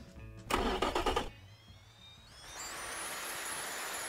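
Turbocharged car engine in the Automation/BeamNG driving game, a loud revving burst that quickly drops away, then a rising whine that climbs steadily and settles into a sustained high, airy drone with no talk.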